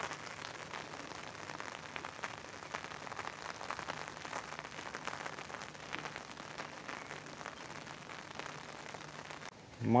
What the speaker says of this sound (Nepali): पानीको आवाज सुन्न पाउने भयो।